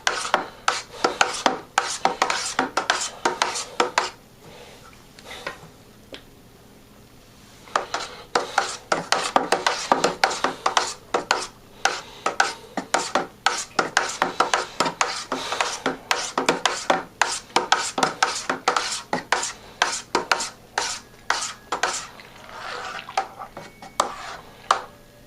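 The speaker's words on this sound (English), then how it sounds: "I'm going to give this a good stirring" Barolo wine kit must being stirred during primary fermentation, a steady run of rhythmic scraping, rubbing strokes close up, with one brief pause partway through and no talk.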